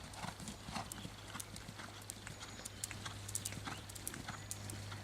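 Horse cantering during dressage training, a steady rhythmic run of muffled hoofbeats on an arena surface, fairly faint, with a constant low hum underneath.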